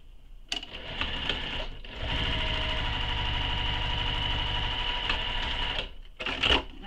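A sewing machine stitches a leather mini crossbody bag in a steady, loud mechanical whir that starts, pauses briefly, then runs continuously before stopping, with a short burst at the end.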